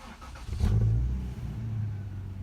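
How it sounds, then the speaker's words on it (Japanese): An early Heisei-era Japanese VIP sedan, a Toyota Crown or Nissan Cima, gives a brief engine rev that swells to a deep, muffled roar and settles into a lower idle, fairly faint and heard from close by. "ことはこの車いい音しますね。"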